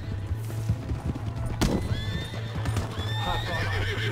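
A horse in the open-world western game Red Dead Redemption 2, with clip-clopping hooves and a sharp whinny, loud and close, amid game ambience.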